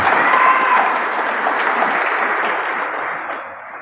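Dense applause from a crowd at a large declaration event of an Indonesian NGO, loud and steady before tapering off toward the end, with a brief whistle near the start.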